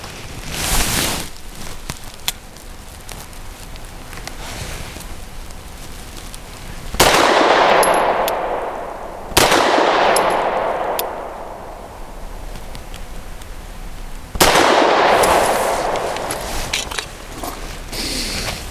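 A Grand Power P1 Ultra pistol fires 100 grain frangible rounds outdoors, with several sharp shots spaced seconds apart. Each loud crack is followed by a long echoing decay over faint background noise.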